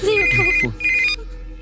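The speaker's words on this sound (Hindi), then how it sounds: "फोन है। जल्दी उठाओ।" A phone rings in two electronic trills while a voice talks over the first ring, followed by quiet room tone.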